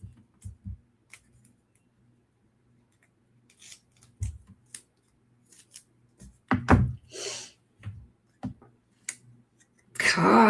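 Material being cut down by hand while a card is made, with scattered snips and rubbing handling sounds close by, separated by quiet gaps, and a brief spoken remark.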